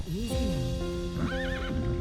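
A tier 3 horse mount in a video game neighing twice in quick succession, a loud close whinny with hoof clops underneath.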